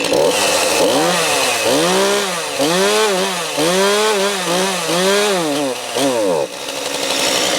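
A battery chainsaw revs up and down repeatedly while cutting firewood, loud and close, with a steady buzzing whine that rises and falls in rhythmic pulses.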